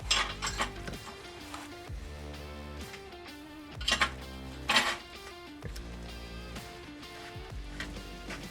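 Nuts are threaded onto a Torsen type 2 limited slip differential for an NB Mazda MX-5 Miata, with bursts of rapid ratchet clicking in an irregular rhythm, close and clear, separated by brief pauses and metallic handling.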